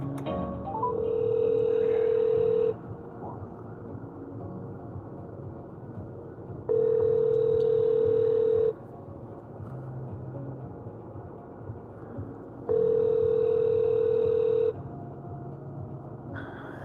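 A telephone ringback tone sounds during an outgoing call: three steady, loud tone bursts about two seconds long, repeating at regular intervals with quiet line noise between them.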